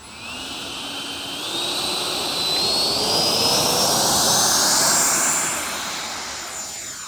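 An AeroScout trainer RC plane converted to a 64 mm electric ducted fan flies by with a high, whining jet-like turbine tone that rises and falls in pitch, swelling louder through the middle as it passes close, then fading slightly.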